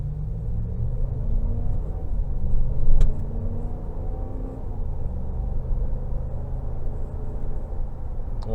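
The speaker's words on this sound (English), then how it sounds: "we're gonna do one pull in sport mode because it doesn't have a lot of gas in it." A 2022 Wagoneer Series I accelerating hard in sport mode, heard from inside the cabin as a steady, deep engine and road rumble with a brief swell near the middle.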